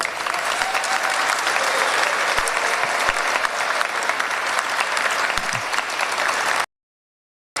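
Sustained, loud audience applause after a choir performance, dense clapping holding steady for several seconds before cutting off abruptly to silence.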